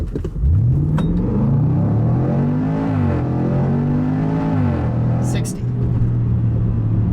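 A 2019 Range Rover Sport SVR accelerates hard from a standstill, its engine roaring loud and close as the pitch climbs and drops back at each gear change, then pulls on strongly.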